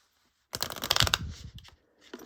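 A deck of playing cards on ordinary cardstock being shuffled, a dense fluttering riffle of rapid crisp snaps followed by a softer bridge and a brief second rustle, close and clear with no talk.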